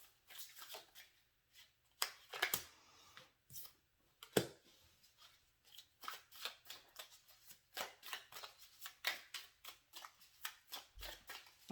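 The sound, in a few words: tarot cards being shuffled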